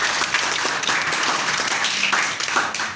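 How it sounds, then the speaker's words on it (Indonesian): Classroom of students applauding together, a dense, steady burst of clapping close by and fairly loud, lasting throughout with a few faint voices underneath. "tepuk tangan untuk kita semua"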